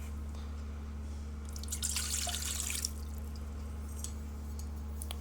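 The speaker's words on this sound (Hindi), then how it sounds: "तो हम इसके अंदर पहले पानी डाल देते हैं।" Water being poured into a Borosil electric kettle, a brief, bright splashing gush lasting about a second amid quiet room hum, followed by a few faint drips.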